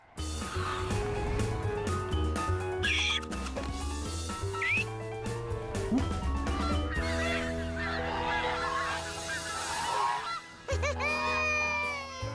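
Cartoon geese honking and bird calls in an animated flying scene, set against busy orchestral music that runs throughout with repeated squawks and honks.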